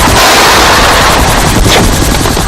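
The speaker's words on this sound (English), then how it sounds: "gunners are more likely to let loose on a firing range than shoot at insurgents" Dense, loud gunfire from soldiers on a firing range in Iraq, overlapping shots merging into a continuous roar with no pauses.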